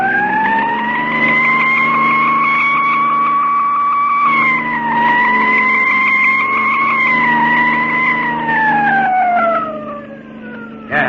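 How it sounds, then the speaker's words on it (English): A wailing siren on a speeding car in a radio drama, loud and close, rising and falling in long sweeps over engine rumble before fading slightly at the end. "Step on that siren, Mug, and drive."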